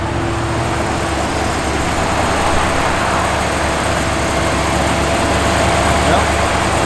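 Blower motor and windshield wipers running inside a 1961 Chevrolet Biscayne, a steady near mechanical hum with a faint repetitive motor whine, continuous and unchanging throughout with no one talking.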